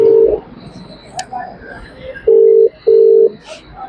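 A mobile phone call rings out as steady electronic ring tones, two matching pulses after a short beep, with background voices and ambient noise.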